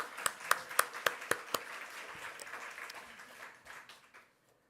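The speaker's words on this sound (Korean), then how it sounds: "우리 감사 박수 하겠습니다." A congregation at a Sunday church service claps in thanks: a few sharp, evenly spaced claps at first, then a softer scattered patter of hands that dies away into silence.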